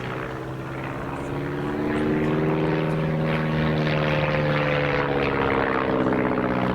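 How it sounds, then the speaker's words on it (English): A propeller aerobatic training aircraft flies an air display, its engine drone rising in pitch and loudness as it nears, a strong steady buzzing hum with shifting tone throughout, no voices heard. "giving us a perfect demonstration of the aerobatic capabilities of this aircraft"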